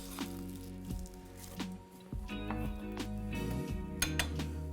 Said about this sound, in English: Garlic likes to be aggravated, so we're going to slice it across there and then give it a little whack.